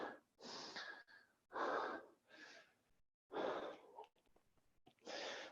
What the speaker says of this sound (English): Two more breaths.